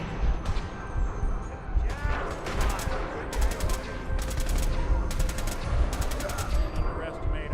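Rapid bursts of super weapon gunfire in Fallout 4 rattle out in repeated volleys, loud and close, each burst lasting about half a second over steady combat noise.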